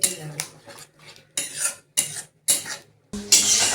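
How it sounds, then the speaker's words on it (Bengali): A spoon stirring chana curry with yogurt in a metal pot, giving repeated loud clanks and scrapes in bursts with short pauses between them, close up and with no talking. "দইটা দেওয়ার পরে এটাকে নাড়তে হবে, নাহলে কিন্তু দইটা কেটে যাবে"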